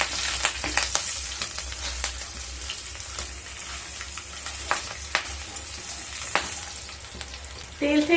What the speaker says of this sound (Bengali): হাফ চামচ হিং, গোটা জিরে দিয়ে দেব হাফ চামচ, দুটো চেরা কাঁচা লঙ্কা দিয়ে একটু নেড়ে নেব।